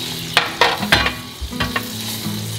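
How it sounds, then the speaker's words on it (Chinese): Chicken breast is laid skin-side down into hot oil in a pan, giving a loud close sizzle with several sharp crackling spits and scraping clatter, no voices. "我要来下鸡肉咯，我皮朝下"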